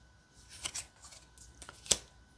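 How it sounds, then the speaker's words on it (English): Anne Stokes Gothic tarot cards are shuffled by hand close by, quiet papery riffles and flicks in short bursts with one sharper slap near the end. "I feel like you would still be able to shuffle this pretty easily."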